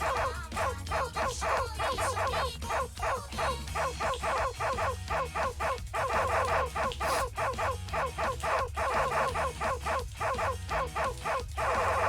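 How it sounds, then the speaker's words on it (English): A dog barks, yips and whimpers in a rapid, continuous, loud run of sharp repeated calls close by, with little pause throughout. "I need to calm the dog"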